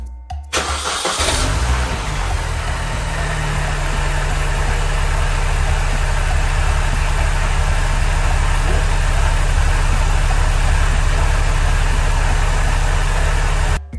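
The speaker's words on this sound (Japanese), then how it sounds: "いや、絶対に今アイドリング静かだなと僕思ったんですよ。" A Mini Cooper S engine idles steadily and loudly for the whole stretch, a constant low rumble after a brief burst of noise at the start, with no talking.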